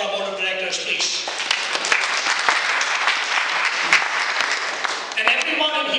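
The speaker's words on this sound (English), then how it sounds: "let's have a round of applause for our Board of Directors" Sustained audience applause fills the room for a Houston chamber's board of directors, dense steady clapping from a large crowd with a few louder claps and faint voices mixed in.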